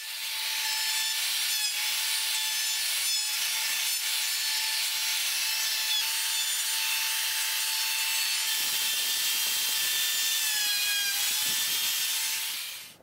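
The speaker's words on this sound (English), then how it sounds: "So I'm going to chamfer off this corner around the sides" A hand tool chamfers a wooden corner during a coach restoration, a continuous high-pitched rasping whine that holds steady for several seconds and then shifts in tone. It stays loud and close, with no talking.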